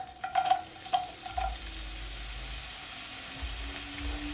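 Onion, garlic and fresh ginger sautéing in oil in a pot, a soft steady sizzle following a few clattering stirs, close and quiet, no voices.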